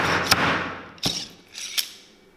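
Plunger-style nailing tool driving a nail into a boot heel during a boot restoration: three sharp, close metallic strikes spaced about a second apart, the first over a bed of noise, the last two fading into quiet.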